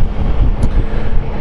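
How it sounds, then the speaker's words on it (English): Strong wind buffets the microphone on a Honda Goldwing motorcycle ride in a continuous low roar, loud and close, with no talking. "Man, it's windy."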